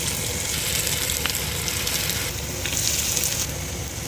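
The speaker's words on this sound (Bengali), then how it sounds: "তেলটি গরম হয়ে গেলে আমরা বড়াগুলো ছেড়ে দেব" Pui shak leaf fritters sizzle in hot oil, a loud, close, continuous bubbling crackle with scattered pops that holds steady for a few seconds, no voices present.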